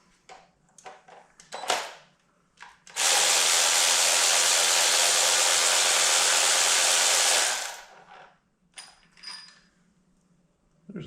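A Craftsman power tool spins out cylinder head bolts on a VW VR6 24V engine, one continuous whirring burst of about four seconds, framed by quieter clicks and metallic handling before and after.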